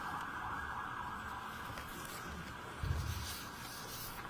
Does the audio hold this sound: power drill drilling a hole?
no